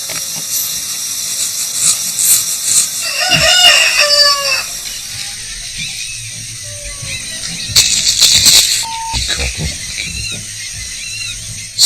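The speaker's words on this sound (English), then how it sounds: "cockerel. He's been doing that for the last 10 minutes." A cockerel crows loudly and close by at dawn in rural Brazil, with two drawn-out crows several seconds apart over a quiet background of insects and morning ambience.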